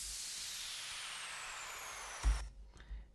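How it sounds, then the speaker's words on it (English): A descending white-noise sweep layered under another sweep in a remake of an EDM track, a bright hissing wash falling in pitch over about two seconds before cutting off into a soft low thump and fading tail. "Underneath that I added a sweep."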